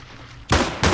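Two loud, close pistol shots on the Overpass map in a Counter-Strike wingman match, the first halfway through and the second near the end, over a quiet background.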